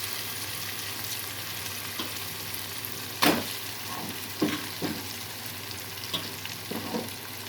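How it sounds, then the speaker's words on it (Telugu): Fish pieces for a Nellore-style fish pulusu frying in a pan over cooked tomato give a steady close hiss, broken by several louder crackles and scraping stirs, with no voices. "ఇప్పుడు చేప ముక్కలు వేసి కొద్దిసేపు వేయించి తీస్తాను ఫ్రెండ్స్"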